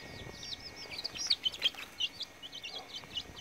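An injured chick gives a run of faint, high, quick peeps in a henhouse at dusk, uneven in rhythm with short gaps between them, over a quiet background.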